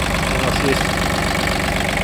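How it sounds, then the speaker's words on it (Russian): A three-cylinder diesel engine on an ISEKI SIAL19 mini tractor idles with a steady, loud, low rumble, running continuously while someone talks over it. "Двигатель простой трехцилиндровый, дизелек."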